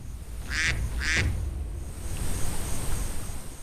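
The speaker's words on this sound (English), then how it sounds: "A wild duck is swimming calmly, completely unaware that it has already entered the sights of a patient predator." A wild duck quacks twice in quick succession while swimming on water, the calls clear and fairly close over a steady outdoor background hiss.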